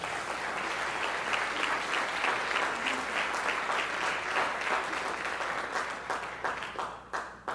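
A church congregation breaks into sustained applause, dense steady clapping filling the room before tapering off into scattered final claps.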